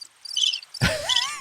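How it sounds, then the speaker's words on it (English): Crickets sound effect played from a sound board, a steady high chirping trill that starts quietly and swells after a sharp jolt, with other sound overlapping. "Crickets."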